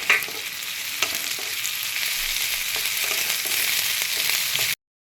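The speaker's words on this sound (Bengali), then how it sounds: "এবারে একটু ভালো করে এগুলো ভেজে নেব।" Minced garlic, ginger and green chillies sizzle steadily in hot oil in a pan for a Bengali fish chop, a close, continuous frying hiss with occasional stirring clicks and no talk, ending abruptly.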